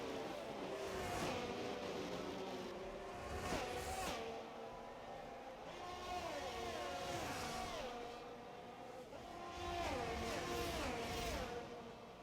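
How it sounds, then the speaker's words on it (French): Two Mercedes race cars from a sim-racing video game roar along together, engines holding a steady high drone with repeated rising and falling pitch sweeps as they shift gears, continuous and fairly loud with faint commentary underneath. "les deux Mercedes qui roulent"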